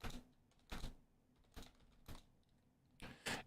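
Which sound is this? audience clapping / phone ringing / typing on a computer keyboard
typing on a computer keyboard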